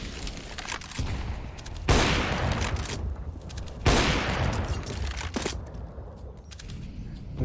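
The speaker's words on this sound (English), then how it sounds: "Here come the nades." Grenades and gunfire in a Counter-Strike match on the Nuke map: two loud sharp blasts about two seconds apart, surrounded by clattering bursts of shots and rattling in-game noise with no voices.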